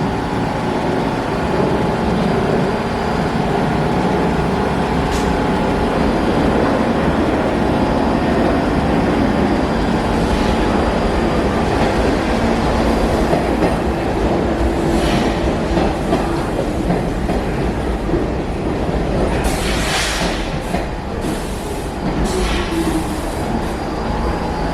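A New York City subway train rumbles steadily along the tracks with a constant rushing roar, occasional clicks and faint squeals of wheels, heard from inside the car.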